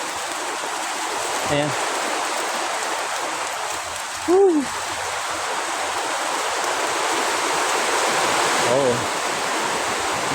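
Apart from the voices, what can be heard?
sudden rain pouring down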